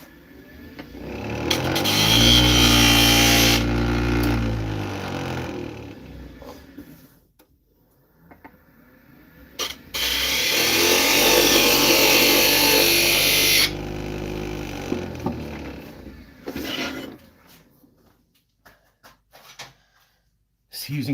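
Wood lathe spinning a snowman bottle stopper while a carbide tool cuts it, heard as two long, loud stretches of whirring and scraping with quieter gaps and scattered knocks between them.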